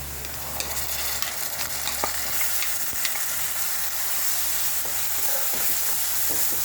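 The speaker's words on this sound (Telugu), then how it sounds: "ఈ బౌల్లో అయితే మనకి ఆనియన్స్ అయితే బాగా ఫ్రై అవుతున్నాయి" Onions with masala onion paste fry and get stirred in a bowl for prawn curry, a steady close sizzle with scraping spoon strokes throughout.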